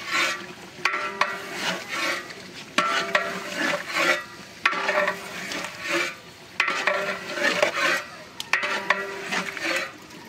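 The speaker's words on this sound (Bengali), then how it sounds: "এখন মাংসটা ভালো করে একটু নেড়া দিলে হবে" Meat being turned in a hot cooking pot, a spoon scraping and rasping through it in repeated bursts about every two seconds, moderately close with no talking.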